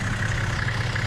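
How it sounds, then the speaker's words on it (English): A Toyota Landcruiser 79 Series engine idles steadily up close, a low, even diesel-like rumble with no revving and no voices. "I've let the engine run"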